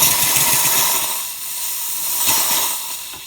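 Steam hissing from a Gaggia Classic Pro espresso machine, a loud, close, continuous hiss that swells and eases over a few seconds, with no talking.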